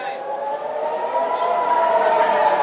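Civil defense siren sounding during a nationwide defense drill at the Western Wall in Jerusalem, a steady sustained wail filling the open plaza at moderate distance, with faint crowd murmur beneath.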